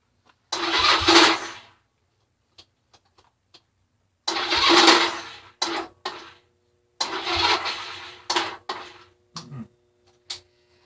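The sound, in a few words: flooded engine being cranked, trying to start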